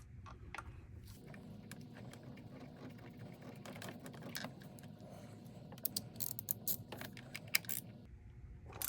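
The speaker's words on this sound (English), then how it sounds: "Let's get the socket. Let's get this bolt, get it started." A ratchet socket wrench works a bolt on a 2008 Mercedes-Benz CLK350 while a cam magnetic sensor is changed, giving quick metallic clicks in bursts over a low hum, louder and sharper toward the end, with no talking.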